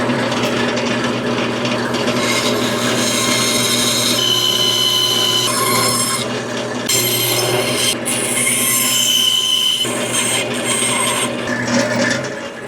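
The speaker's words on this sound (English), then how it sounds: "we'll go to the bandsaw and cut it out" A bandsaw cuts a mouth shape out of a piece of wood, a loud continuous whining screech with shifting pitch as the blade feeds through the workpiece, with no talk.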